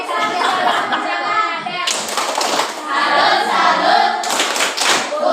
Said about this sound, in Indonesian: Tepuk salut untuk Ramadan.